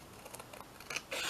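Scissors snipping through paper to cut out a small ladybug shape for a recycled pocket pouch craft, giving a few quick close crisp snips that grow louder toward the end.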